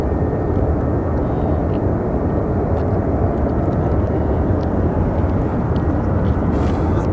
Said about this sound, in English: All right, we have our Southwest departing.